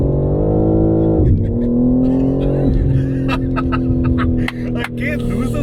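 A BMW M car, a G80 M3 or F90 M5, revs and pulls hard under heavy throttle, its engine note loud and close and rising in pitch through gear changes, with a voice speaking over the drive.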